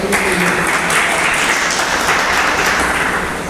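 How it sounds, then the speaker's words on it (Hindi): Loud, dense audience applause at an event welcoming a guest, sustained and steady from start to finish with no talk over it. "एक बार फिर धीरे धीरे जरा जोरदार तालियां बजाइए"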